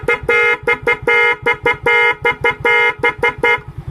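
A Mio i 125 motorcycle's music horn on a dual-horn relay plays a rapid run of loud, bright electronic toots, each blast short and clipped. It pulses in a quick irregular pattern for about four seconds, close and alone.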